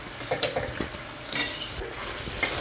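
Katla fish pieces frying in butter masala in a pan, a soft continuous sizzle with light stirring and occasional clinks of a utensil against the pan.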